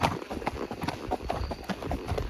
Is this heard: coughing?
no